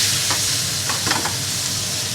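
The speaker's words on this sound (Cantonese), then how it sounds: "煎埋呢一面，" An M9+ ribeye steak sizzles steadily in oil in a hot frying pan, a dense continuous hiss with a few brief crackles and no voices.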